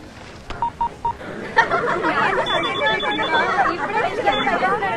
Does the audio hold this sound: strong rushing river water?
no